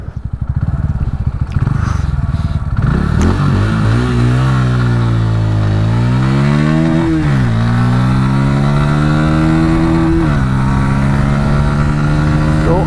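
A Bajaj Pulsar P150 150cc motorcycle engine revs loudly and accelerates hard toward top speed, pitch climbing through several gear shifts with brief drops between them, close and continuous.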